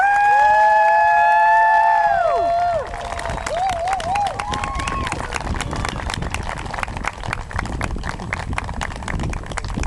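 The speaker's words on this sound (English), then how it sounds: "give the biggest applause you've ever given in your whole lives to this hardworking lady" Rally crowd cheering and applauding for a speaker being introduced, dense clapping rising loudly after a brief stretch of amplified voice and tones at the start.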